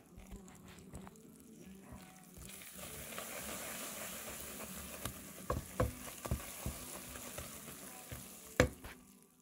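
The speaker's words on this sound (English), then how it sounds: "I'm about to add the baking soda, and you'll see what it's going to do when I start stirring it." Peanut brittle candy being stirred after butter and baking soda go in, a steady soft bubbling hiss with a few sharp scrapes and knocks of the spoon toward the end, fairly quiet and close.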